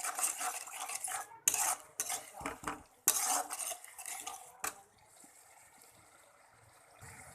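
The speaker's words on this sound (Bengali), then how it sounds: "দেখুন, আমি এইভাবে ভালো করে মশলাটাকে কষিয়ে নেব।" Spice masala being stirred and sautéed in a pan for a village-style chana dal and potato curry, with a utensil scraping and clinking against the metal in bursts over the first five seconds, then a low, quiet sizzle.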